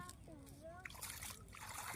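Water splashes and sloshes close by while children's voices chatter over it.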